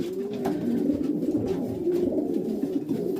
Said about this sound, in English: the spare cocks are just like sitting in the cage and cooing about with each other